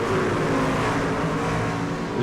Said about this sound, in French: Les voitures sont prêtes, le vert est donné, c'est parti.